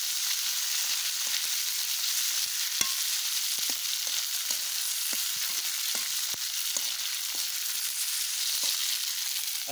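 Tomatoes frying in a pan give a steady, close sizzle, broken by frequent light taps and clicks from stirring.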